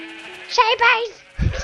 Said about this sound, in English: you got like a total herd of sheep coming after you